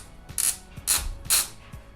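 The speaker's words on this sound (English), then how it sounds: "We need to remove the screws from the center console panel." Screws being backed out of the center console panel of a Land Rover Defender, giving three short, sharp ratcheting bursts at an even pace, close and fairly loud with no talk.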